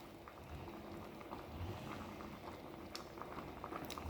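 A pot of Jamaican-style rice and peas boiling on the stove, a dense, steady bubbling and popping close by, quiet and continuous with no voices.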